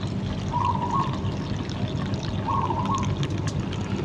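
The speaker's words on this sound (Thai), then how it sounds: "กรองเอาเฉพาะน้ำ" Homemade insecticide liquid is poured and strained through a filter, a steady trickling pour against a constant outdoor rumble, with two brief higher splashy moments and no voices.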